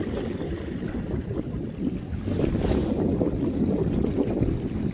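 Headwind blowing across the sea at night while sea bass float fishing off Pohang's coast, a steady rough rush of wind buffeting the microphone, swelling a bit stronger midway, with no talking.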